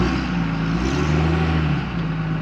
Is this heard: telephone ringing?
no